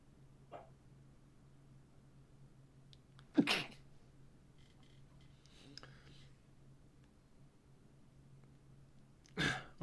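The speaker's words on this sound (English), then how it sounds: "I feel like I'm gonna sneeze." Two sharp, close sneezes, one in the middle and one at the end, breaking a quiet room with a steady low hum and soft rustling between them.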